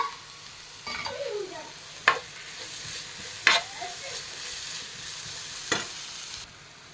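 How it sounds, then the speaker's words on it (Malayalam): Masala of chilli, coriander and turmeric powder with tomato frying in oil in a pan for an Ayila (mackerel) fish dish, a steady close sizzle broken by a few sharp scraping stirs of the spoon, no voices. "നന്നായിട്ടൊന്ന് മിക്സ് ചെയ്ത് കൊടുക്കാം ഇതൊന്ന് എണ്ണയിൽ കിടന്ന് ഒന്ന് വേവണം"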